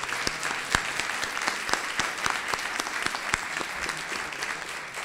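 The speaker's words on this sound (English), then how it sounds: "Can you just join me in giving a big round of applause to this panel and to all of our speakers today?" An audience applauds a panel of speakers at a housing affordability event, a steady wash of clapping from many hands with sharp individual claps standing out, loud and sustained throughout.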